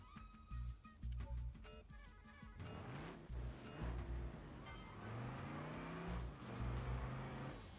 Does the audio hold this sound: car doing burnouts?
yes